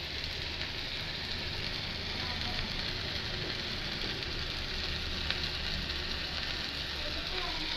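Chili powder and spices sizzling and frying in a pan, a steady broadband hiss running unbroken throughout at moderate level with no distinct stirring clicks.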